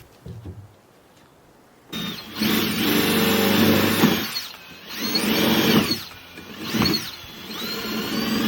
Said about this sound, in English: I'm just drilling out some holes in this piece of wood